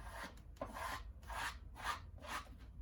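A popsicle stick scrapes paint off a wooden board being distressed, in several rhythmic rasping strokes about half a second apart, close and fairly quiet with no talk.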